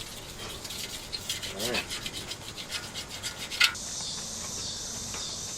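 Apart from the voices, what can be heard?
rubbing to clean Ford F-100 rear window frame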